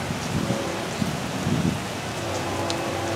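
Steady rain patters and hisses continuously close by, a dense even wash of drops with no voices.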